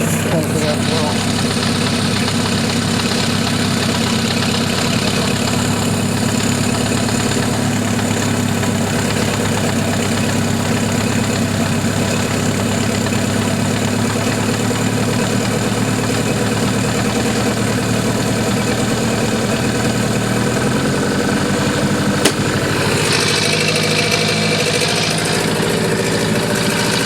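A Mercury 9.9 hp outboard motor idles steadily with a loud, even, buzzing engine drone and faint knocking, continuous throughout, with a brief change in tone near the end as a voice speaks over it.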